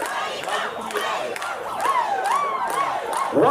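A concert audience at The New Year Groove Season 2 cheers and shouts in a loud, continuous roar, with high whoops and wavering yells over a dense crowd wash.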